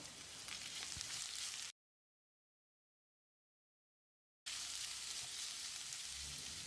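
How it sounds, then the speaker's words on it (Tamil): Grated carrot sautés in a pan for potato masala, a steady hissing sizzle heard close up, broken by a gap of silence of nearly three seconds before the sizzling resumes just as loud. "இதை போட்டு மறுபடியும் 1 நிமிஷம் வதக்கிடலாம்."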